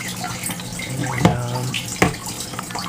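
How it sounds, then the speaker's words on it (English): Water trickles and runs down the side of a homemade DIY aeroponics garden with sprayers running. It makes a steady wash with a faint hum beneath and two sharper splashes or drips partway through. No one speaks. "there's water running down the side of this thing"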